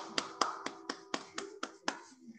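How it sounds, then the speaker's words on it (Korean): Hands clap in a church youth Sunday worship service, eight sharp, evenly spaced claps in a quick steady rhythm, fairly faint and close, with no voices over them. "우리 하나님께 영광의 박수 올려드릴까요?"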